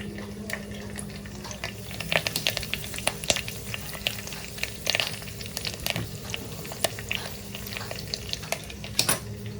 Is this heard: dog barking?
no